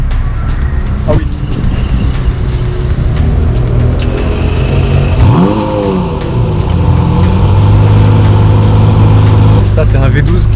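A Lamborghini Murcielago LP640 V12 revs loudly in a busy Monaco street, its engine note climbing in one sharp sweep. Constant traffic noise runs underneath, and people talk nearby.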